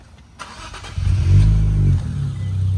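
A click and brief crank, then an Infiniti Q50S 3.0t engine catches and roars loudly, settling into a steady, deep idle close by.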